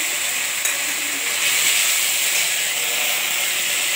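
Chilies and ginger hit hot oil in a pan for a Bengali chal kumro and prawn curry, giving a loud, steady hiss of sizzling that swells slightly midway.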